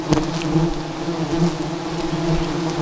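Wild forest bees in a jungle swarm around their nest, a loud, dense, continuous buzzing close by, with no talking.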